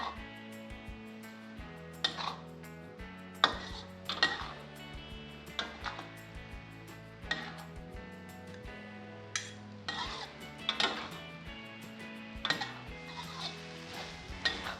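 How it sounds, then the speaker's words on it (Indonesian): A spatula scrapes and clinks in a pan as fried noodles are stirred with sweet soy sauce and chicken stock powder, with irregular metallic taps and scrapes over background music. "Sekarang diaduk dan kita masak sampai matang."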